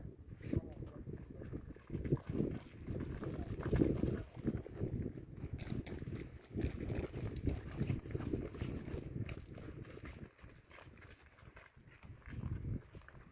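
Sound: Mongolian horses at the Selenge River bank

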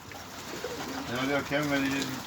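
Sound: pigeons cooing while being gathered

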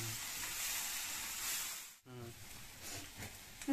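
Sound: vegetable curry (sabzi) frying in a pan

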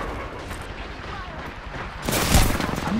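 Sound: grenade explosion in the video game Apex Legends

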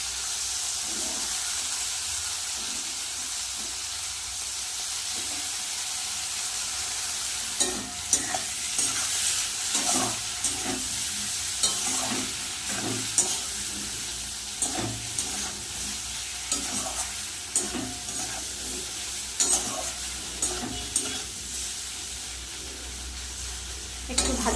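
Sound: frying and stirring potatoes and pointed gourd with poppy seed paste

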